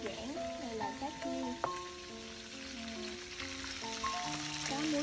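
Food fries in a pan for a simple home-cooked meal, a soft, continuous sizzle that stays low beneath louder melodic music.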